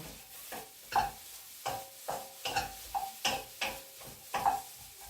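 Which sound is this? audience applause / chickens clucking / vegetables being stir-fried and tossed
vegetables being stir-fried and tossed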